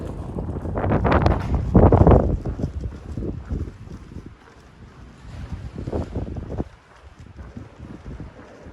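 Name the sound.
wind blowing on a trail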